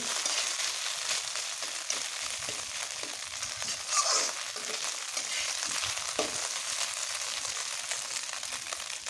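Taki fish frying in a pan, a steady dense sizzle with crackling spits and a few louder pops, continuous and close.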